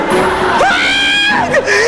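A man's sustained, strained scream rises and wavers for nearly two seconds, loud and close, with a crowd-like clamour behind it.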